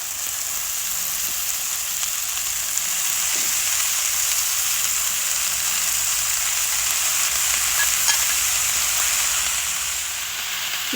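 Chopped local spinach hits a hot pan of cumin-spiced potatoes, and a loud, steady sizzle and hiss rolls on without a break. No voices can be heard.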